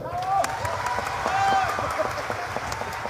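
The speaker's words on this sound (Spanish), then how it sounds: "el aplauso para la callejoneada." Concert audience applauding for a callejoneada, a steady wash of clapping and crowd noise with a few voices calling out over it.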